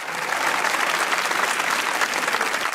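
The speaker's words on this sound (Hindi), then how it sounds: "तालियां तालियां भाई।" Steady applause from a studio audience at a Pakistani comedy talk show fills the whole stretch, a dense, even wash of clapping with no voices over it.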